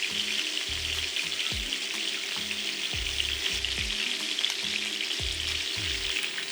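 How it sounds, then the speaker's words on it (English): Seasoned beef short ribs sear in very hot oil with a constant bright sizzle and crackle, while low, repeated rumbling knocks sound underneath and no voice is heard. "the oil is very hot, we are going to start searing these short ribs that I have seasoned with salt and pepper on both sides."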